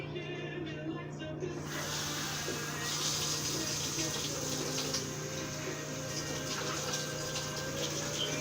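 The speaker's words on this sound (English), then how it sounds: "Let's add the water." Water runs from a tap into a gingerbread muffin mixture, a steady close trickle and splash lasting several seconds, with a faint hum and voices talking underneath.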